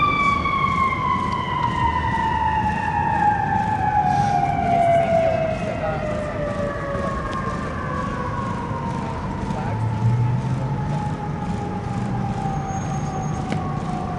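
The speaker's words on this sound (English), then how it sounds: "Just letting the siren go by." An emergency siren wails loudly and slowly falls in pitch as the vehicle passes and recedes, over traffic rumble and faint voices at an outdoor rally in Palm Springs.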